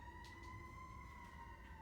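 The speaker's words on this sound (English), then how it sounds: "Sirens." A steady, faint siren wails outdoors in the distance, a continuous held tone under low background noise with no talking.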